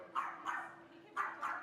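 A large dog gives four deep, resonant barks in two pairs, moderately close but not loud, over a faint steady hum.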